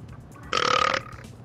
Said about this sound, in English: I didn't even burp twice